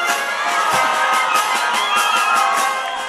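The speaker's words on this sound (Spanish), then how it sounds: "El público en las tribunas del Estadio de la Escuela de Oficiales pudo observar y aplaudir el emotivo paso de las delegaciones" Spectators in the stands of the Escuela de Oficiales stadium cheer and applaud the delegations' opening parade at the Olimpiada FAP 2018, a steady, dense roar of voices and clapping throughout.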